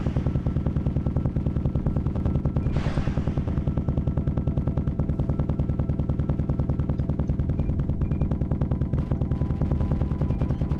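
Spaceship guns in a video game test flight fire at crates in a steady, rapid automatic stream, each shot a sharp pulse in an unbroken rhythm lasting the full length, loud and alone, with one brief whooshing burst partway through.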